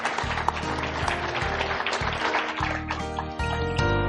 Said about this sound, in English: Let's give him a round of applause and thank Colonel Williams.